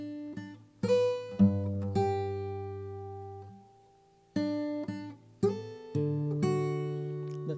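Fingerpicked acoustic guitar plays slow worship-song patterns from "Yeshua," clear plucked notes and ringing chords struck in irregular clusters, with pauses between phrases, close and fairly quiet, no voice.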